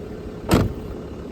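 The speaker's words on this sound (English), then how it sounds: "I'm gonna roll this down just that way we don't accidentally lock keys in it" A short electric whir of a Mercedes E320 power window rolling down, lasting about a quarter second, over a low steady background rumble.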